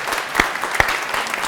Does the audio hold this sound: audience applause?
yes